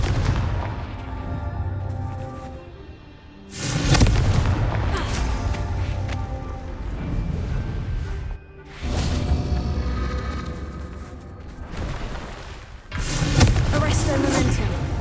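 Confringo blasting-curse explosions in the Hogwarts Legacy video game, loud booming bursts erupting several times across the clip over a dense, busy game soundscape with music-like tones.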